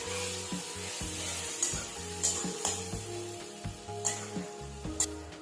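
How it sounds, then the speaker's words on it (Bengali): Ground banana flower (mocha) fries with chilies in a pan under a continuous sizzle, while a spatula scrapes and stirs in repeated strokes about every half second, over a low steady hum. "এখন এর মধ্যে দিয়ে দেবো বেটে রাখা মোচাগুলো। মোচাটাকে খুব ভালো করে কষিয়ে নেব।"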